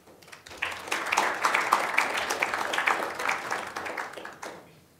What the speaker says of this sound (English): An applause for my victim